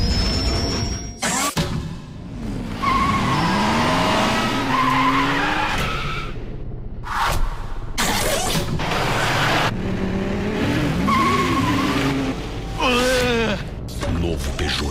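A Peugeot 308 Turbo THP being driven hard, with repeated loud tire squeals and skids rising and falling across the run, the engine audible underneath, alongside a narrator speaking.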